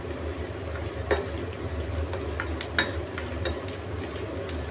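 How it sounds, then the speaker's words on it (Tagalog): Kikiam fish balls frying in a pan for pancit canton guisado, a steady close crackling sizzle with occasional louder pops and stirring clicks throughout. "Fry lang natin ang ating kikiam."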